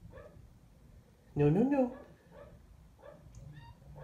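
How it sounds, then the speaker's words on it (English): A dog barks downstairs in a home, one loud burst of yelps with some whining, followed by fainter yips, while a person speaks softly nearby. "The dog downstairs is going crazy."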